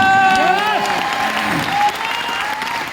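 An audience applauds at a large gathering in Delhi, steady dense clapping that persists under a person speaking, easing slightly toward the end.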